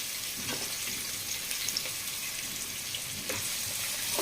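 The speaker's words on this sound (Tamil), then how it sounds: "வெங்காயம் எப்பவுமே வந்து சிம் ஃப்ளேமில் தான் வதக்கணும்" Sliced onions sauté gently in a pan over a low flame for prawn biryani, giving a faint, steady sizzle with soft crackles throughout and no voices.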